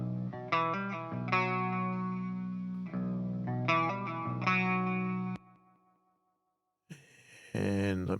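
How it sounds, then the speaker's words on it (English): Instrument notes pass through a UAD EP34 tape-style echo delay plugin, with sustained sounds repeating and trailing off, then a pause of near silence before a short, brighter burst returns. "So, this is an old EP34 tape style echo."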